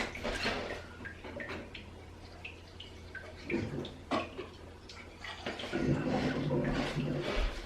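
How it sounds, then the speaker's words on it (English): Water is poured into empty tomato containers in a home kitchen to rinse them, giving scattered close splashes and gurgles that build to a steadier, fuller flow near the end. "I'm going to put some water in these containers."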